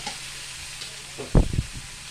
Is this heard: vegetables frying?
yes